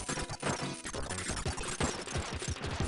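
Rapid, steady volleys of heart shots fired in Kirby's Dream Land 3 during a co-op boss fight in the Hyper Zone, a dense, busy patter of repeated bursts layered over game music.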